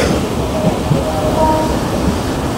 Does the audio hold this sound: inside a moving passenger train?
yes